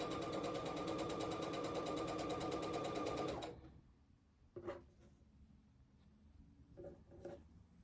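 A sewing machine stitches fabric in a fast, steady mechanical whir for about three seconds, then stops, followed by quiet handling taps and faint rustling.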